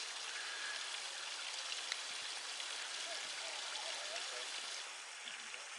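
Water rushes steadily down a stream at Queens Park, a continuous close hiss and splash that holds at an even level and drops slightly near the end.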